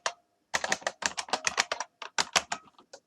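Fast, close computer keyboard typing, with crisp bursts of rapid keystrokes and a short pause partway through.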